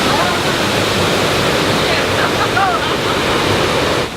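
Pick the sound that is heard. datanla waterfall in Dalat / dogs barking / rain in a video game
datanla waterfall in Dalat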